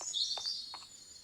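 Birdsong in the Minecraft video game, with a few thin chirps and tweets over a soft, airy outdoor ambience, faint and brief.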